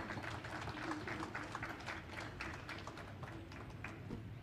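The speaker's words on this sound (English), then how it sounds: "we owe each other a big hearty clap" Audience at the WRC Safari Rally launch in Kenya gives a hearty round of applause, a steady wash of many hands clapping at moderate distance, continuous for the whole stretch with faint crowd murmur underneath.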